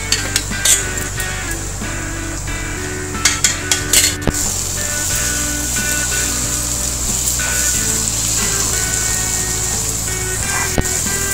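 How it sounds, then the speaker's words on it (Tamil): Garlic, ginger, chillies and tamarind for a tomato pickle sizzle and fry steadily in a pan, with a constant hiss and occasional clinks of a spoon stirring against the metal. "இந்த பூண்டு, இஞ்சி, மிளகாய், புளி இதெல்லாம் வந்து நல்லா ஃப்ரை ஆகணும்."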